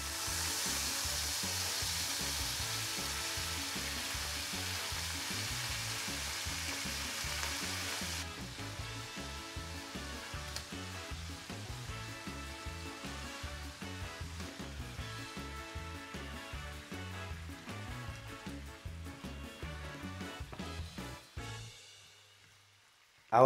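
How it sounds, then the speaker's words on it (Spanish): Cabbage sautés with golden garlic and paprika in a pan, a continuous soft sizzle that carries on under background music and cuts off near the end. "Pues lo vamos a rehogar con ajo dorado, un poquito de pimentón y un buen chorro de vinagre."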